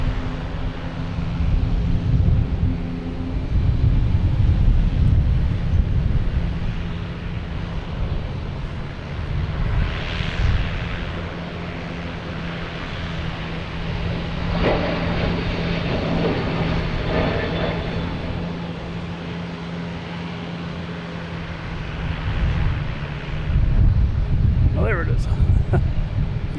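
A Delta Airbus A321 takes off at Boston Logan Airport, its jet engines giving a steady broad roar that swells and fades over time, with wind buffeting the microphone and a person talking over it.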